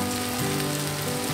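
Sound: okra added to frying onion and chilli in pan

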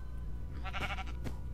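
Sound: sheep bleating in Minecraft video game

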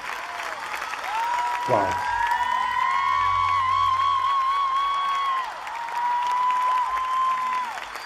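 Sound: concert crowd applauding

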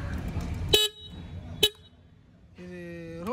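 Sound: Yezdi Scrambler motorcycle horn honking

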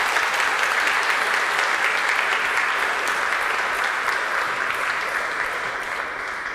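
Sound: applause for the choir Vox Maria in a cathedral

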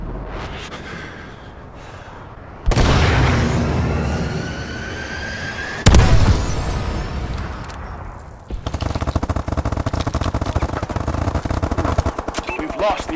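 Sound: missile strike explosions in Call of Duty Advanced Warfare video game

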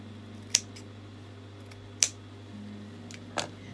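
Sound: scissors trimming fabric for a circle skirt

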